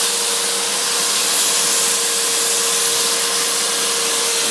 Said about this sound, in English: Turn on your vacuum, okay, and just clean out the sides